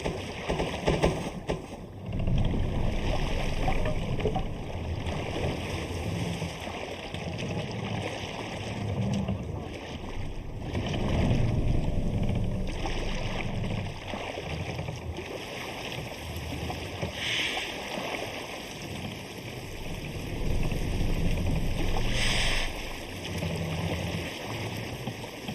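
A Viking longship sails the waves in Assassin's Creed Valhalla, with a continuous loud rush of water and wind against the hull and a few faint voices underneath.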